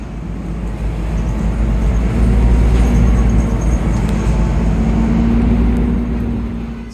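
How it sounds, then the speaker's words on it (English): City bus (route 55 local) approaching at a transit stop, a steady loud low engine rumble and road noise that swells slightly and holds, with a rising whine layered on top, no talk. "Here comes the bus."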